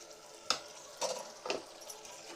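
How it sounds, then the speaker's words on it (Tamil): Spices are stirred and sautéed in masala for vegetable biryani, a soft low sizzle broken by three or four scraping stirs at a steady pace, quiet and close with no talk. "இது நல்லா இந்த மசாலாவிலேயே வதங்கி வரும்"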